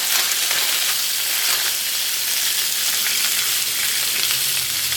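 Pork chops frying in oil in a pan give a steady, dense sizzle with fine crackling throughout, close and even in level, with no voices.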